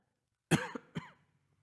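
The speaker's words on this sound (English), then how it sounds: "You have a cough now?" A person coughs after choking on their own spit: two or three sharp, close coughs in quick succession, then quiet.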